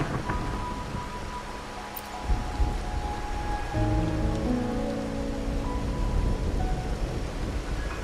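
Rain falls steadily in Wuthering Waves, a soft continuous hiss on surfaces with low rumbling beneath and a faint tonal layer of music entering partway through.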